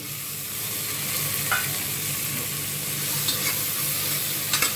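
Thinly sliced tomatoes, four of them, go into a hot pan and hiss in a steady, moderately loud sizzle with no break. A few faint scrapes and ticks of a utensil sit on top, and nobody speaks.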